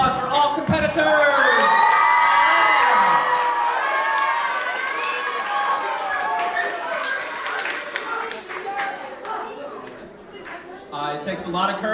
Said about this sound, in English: one more big round of applause for all competitors